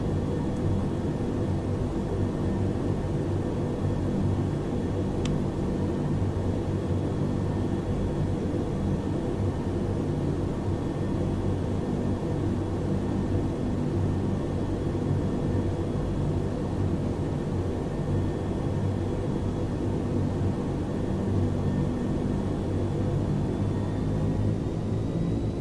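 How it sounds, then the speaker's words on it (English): Airliner taxiing to the terminal in Microsoft Flight Simulator X after a Glasgow to Islay flight: a steady, continuous low engine rumble and broadband hiss that holds evenly throughout, with no talk over it. "And so we begin what could well be one of the longest taxis back to the terminal."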